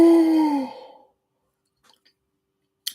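A single drawn-out human yawn opens close to the microphone, a voiced falling tone that trails off into silence within about a second, followed by a faint click near the end.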